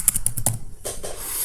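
Quick burst of clicks on a computer keyboard, about five rapid close keystrokes followed by a softer clatter, with no talking.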